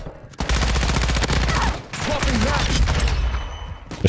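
Rapid gunfire from Call of Duty: Modern Warfare II multiplayer, dense bursts of automatic shots that run almost continuously, loud and close, with short gaps and a low rumbling bed underneath.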